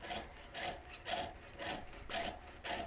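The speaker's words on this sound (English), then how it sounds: "As you're sawing, it's important not to try and force the blade through the metal." A jeweler's saw cuts through metal in steady back-and-forth strokes, about six even rasping passes in a regular rhythm, quiet and close with no voices.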